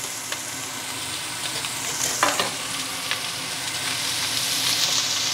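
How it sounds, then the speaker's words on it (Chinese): Bacon and onions sizzle steadily as they are stir-fried in a pan for fried rice, with a constant bright crackle and a few louder stirring scrapes, no voices. "先打爆啲煙肉先。 咁 再倒埋啲洋葱落去。"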